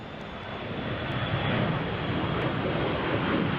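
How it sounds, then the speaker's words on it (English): An Airbus A321 jet departs runway 16 left at Salt Lake City, a steady, loud, broadband engine roar that swells slightly and stays constant throughout. "we've got an A321 departing, runway 16 left"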